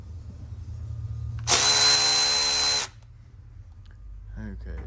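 A power tool loosening bolts on a vehicle rear end, one loud high-pitched whirring burst of about a second and a half, close, against a low background hum, with a brief voice afterward.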